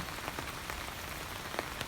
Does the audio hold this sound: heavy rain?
yes